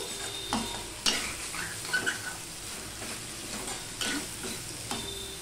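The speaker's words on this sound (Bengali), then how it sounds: "এবার সমানে এইভাবে নাড়তে থাকবো।" Okra frying in a pan over a high flame, stirred with quick scraping and clattering strokes against a steady close sizzle, with no talking.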